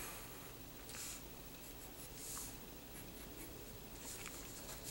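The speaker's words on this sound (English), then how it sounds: "And now you draw your line in." A pen draws a line on paper while graphing an algebra problem, faint soft scratching strokes in a few short bursts against a hissy quiet background, no speech.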